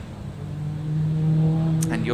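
A BMW M3 launching at a hill climb, its engine tone building steadily and holding loud over about two seconds, with a brief higher-pitched rise near the end.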